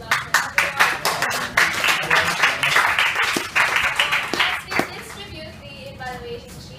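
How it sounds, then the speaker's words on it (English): Audience applause at the close of a college survival training program, a dense patter of clapping that swells, holds for several seconds, then thins out and fades. "So give a round of applause for everyone."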